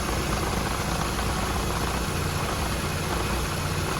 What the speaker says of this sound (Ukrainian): Двигун працює ідеально, заводиться як на холоду, так і на гарячу